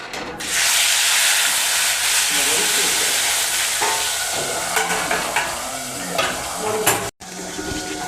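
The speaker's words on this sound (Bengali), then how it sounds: "কড়াই তেল দিয়ে দিয়েছি বন্ধুরা এবার মাছের ঝোলটা হবে একটু তেলটা আগে গরম হয়ে নিক" Cooking oil heats in a kadai for a fish and potato curry, giving a steady, loud, close sizzling hiss with a few light clicks and a brief dropout near the end.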